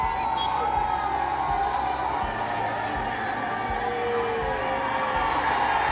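A large crowd fills the air at a packed Ganpati fair, a steady roar of many voices with cheers and whoops rising over it. Music plays beneath, and some talk is mixed in.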